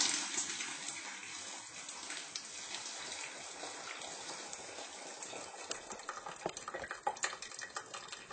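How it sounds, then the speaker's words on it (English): Blackberry juice pours and drains through a kitchen sieve as a steady, hissing trickle of liquid. Small ticking drips rise near the end. "You can hear it just draining out."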